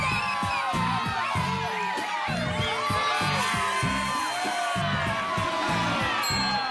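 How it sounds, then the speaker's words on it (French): Students cheer and applaud with full force to push an applause meter: a loud, sustained roar of shouting, whoops and clapping over a pounding rhythmic beat. "c'est le moment de faire péter l'applaudimètre"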